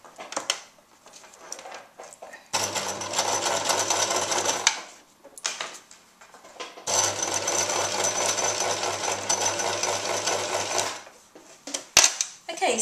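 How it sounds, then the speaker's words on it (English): Sewing machine stitching stretched elastic into a ruffled scarf, running in two long loud whirring bursts of several seconds each, separated by quiet pauses with small handling clicks. "Now to sew this in place I'm going to stretch it a bit so that it'll gather"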